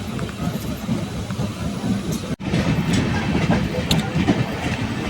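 A Janshatabdi Express passenger train rolls along the Konkan Railway between Thane and Ratnagiri, heard from inside with a loud, steady rumble and rhythmic clatter of wheels, briefly cut by a sharp dropout, with no clear talk.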